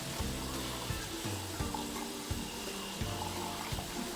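Tap water runs steadily into a sink while a hand is washed at home, a constant soft hiss with low gurgling and splashing shifts as the hand moves under the stream.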